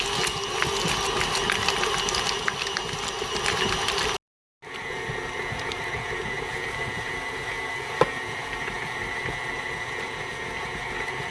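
Steady motorized whir of an electric mixer beating cream cheese filling for a lime cheesecake, continuous and fairly close, with a brief cut in the middle and a single small click later on.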